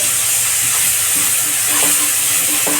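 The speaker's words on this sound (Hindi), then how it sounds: "पेस्ट को हल्का फ्राई कर लेंगे" Garlic, ginger and green chili paste fries in hot oil in a kadhai over a high flame, a dense close hiss and sizzle throughout with faint scraping from stirring underneath.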